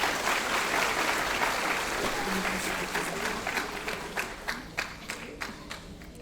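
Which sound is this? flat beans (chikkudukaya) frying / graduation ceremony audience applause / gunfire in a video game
graduation ceremony audience applause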